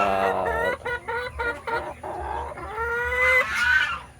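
Six-month-old hybrid Black Australorp crossed with native chickens clucking and squawking close by, a run of repeated choppy calls followed by a longer drawn-out cackle.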